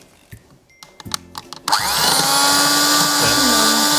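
Kitchen blender grinding dates for a date cake, a few clicks and knocks first, then the motor starting up loud and running steadily with a high, whirring grind close by.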